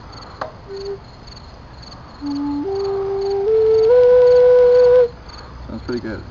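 A homemade Native American flute carved from sumac plays a few soft notes that step upward, rising to a sustained breathy tone and then ending. The notes sound fairly close, over a faint hiss of background noise.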